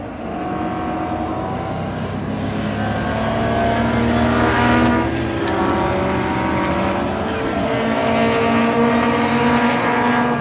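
Falcon touring race car at full throttle on the Donington Park circuit, a loud, sustained engine roar with other racing cars that swells toward the middle as they pass close by, then holds steady.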